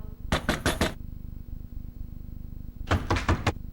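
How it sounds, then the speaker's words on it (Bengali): Two quick bursts of knocking, four or five sharp raps each, separated by a pause, over a low steady hum. "কি গো শুনছো? কেউ দরজা ধাক্কাচ্ছে।"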